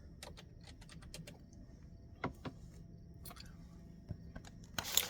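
Computer keyboard typing in a quiet room, a steady run of light clicks and taps with a few louder keystrokes scattered through, close and fairly soft.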